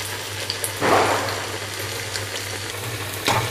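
Spinach masala vadas fry in hot oil with a soft, steady sizzle and a low hum beneath, punctuated by two brief louder bursts as the fritters are turned; no talking.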